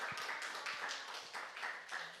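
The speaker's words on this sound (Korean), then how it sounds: "위로와 격려의 박수를 좀 해주시면 좋겠습니다" A church congregation applauds together during an Easter service, giving dense, continuous clapping that fills the room at a moderate level.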